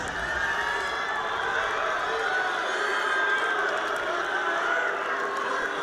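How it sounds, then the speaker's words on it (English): A college wrestling crowd at a Big Ten bout between Michigan State and Ohio State cheers in a sustained, dense roar of many voices. The shouting holds steady throughout. "Crowd trying to cheer on Luke"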